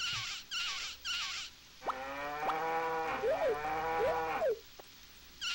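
Synthesized cattle moos from the Nintendo 64 farming game Harvest Moon 64, several short low calls with rising and falling pitch sweeps, clear and close, with game sound effects before them and no talking.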